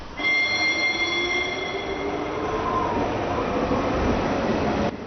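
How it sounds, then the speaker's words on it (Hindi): A train runs steadily on the rails, a continuous loud rumble and rattle with squealing whine tones rising over the wheel noise. "जिंगा दूसरी ट्रेन में चढ़ गया है"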